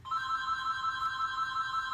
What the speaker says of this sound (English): It's that phone again.